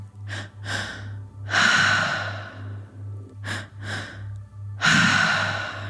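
Deep, slow breaths are drawn in and pushed out through the mouth during a breathwork session, audible inhale-exhale cycles repeating at close range over a low steady hum.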